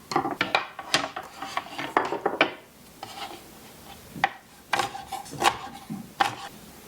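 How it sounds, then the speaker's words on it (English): A knife chops asparagus on a cutting board in a home kitchen, giving a string of crisp, close wooden taps in quick clusters separated by short pauses. "Next, let's get our asparagus chopped up."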